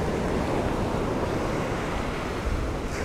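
Waves wash in on a deserted beach over soft sand, wind buffeting the microphone in a continuous, full roar of surf with no voices.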